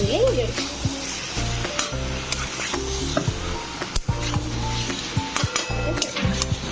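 Vegetables, including taro, frying in a pan while being stirred and mixed: a continuous sizzle broken by repeated scraping and clattering strokes of a utensil, with a low hum underneath.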